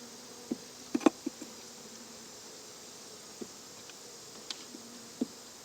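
Honey bees around an open hive, a soft continuous buzz with several sharper buzzing passes close by, no talking.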